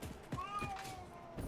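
A pet cat named Mary Kitty meows in a few close, drawn-out calls with rising and falling pitch, heard over a faint background hum in a quiet room.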